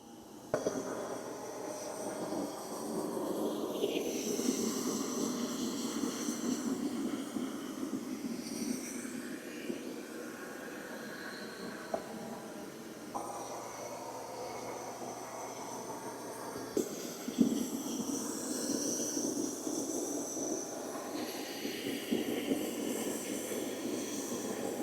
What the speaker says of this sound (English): it's vacuuming the long hair on the first pass